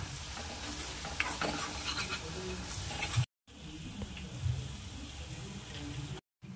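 Red chilli powder being stirred into a soybean curry in a pan, a steady scraping and mixing with a soft sizzle underneath, close and moderate, broken by two short silent gaps.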